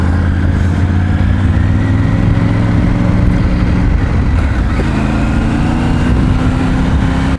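A Triumph Tiger 900 motorcycle engine drones loud and close while riding, a steady mid-pitched hum with slight shifts in pitch held for several seconds.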